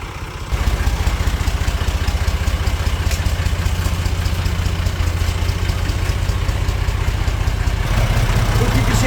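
A 1972 tractor engine, started for the first time in years, idles low and steady with a rhythmic chugging throb, loud and close, continuing without letup throughout.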